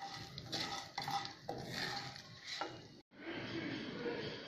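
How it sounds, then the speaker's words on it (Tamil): Fennel, pepper, cumin and poppy seeds are sautéed in oil while a utensil scrapes and stirs against the pan in uneven strokes over a faint sizzle, with a brief cut partway through. "அதே எண்ணெயில் சோம்பு, மிளகு, ஜீரகம், கசகசா எல்லாத்தையுமே நல்லா வதக்கி எடுத்துக்கலாம்."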